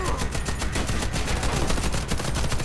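Rapid automatic gunfire in the shooter video game Warface, with dense, loud, continuous bursts running unbroken through the whole clip.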